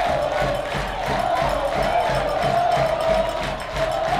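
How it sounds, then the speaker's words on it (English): A stadium crowd at a soccer match between Inter Nashville FC and Chattanooga FC roars continuously, a loud, dense wall of cheering and shouting with rhythmic surges throughout. "The crowd is going absolutely ballistic."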